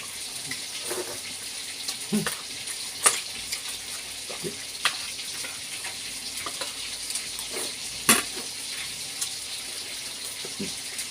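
A long fish frying in a pan during a breakfast cook, a steady close sizzle with scattered pops and crackles that continues throughout, with no talking over it.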